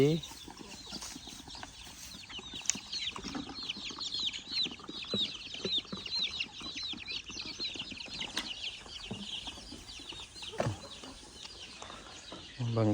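Farm chickens clucking and calling near horses tethered overnight, a busy continuous flock chatter of short repeated clucks with occasional louder calls, a voice speaking over it.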